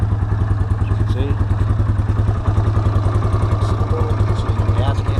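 A Yamaha Warrior 350 ATV engine running after a clutch replacement gives a steady, loud, close mid-pitched chug with an even rhythm from start to finish.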